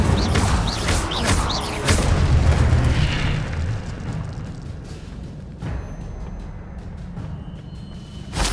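The Incendio fire spell in the video game Hogwarts Legacy goes off as loud booming fiery bursts, with several sharp blasts in quick succession and then a rumbling decay punctuated by a few smaller pops.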